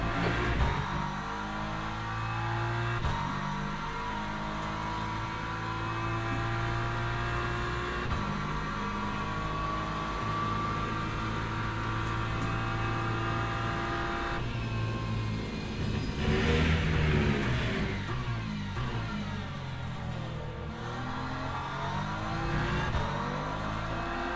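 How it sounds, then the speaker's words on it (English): A BMW GT3 race car engine in the Le Mans Ultimate racing game on the Circuit of the Americas, droning steadily and loudly throughout with shifting revs and a surge midway, no talking over it. "Okay, Angus, there's a faster car approaching."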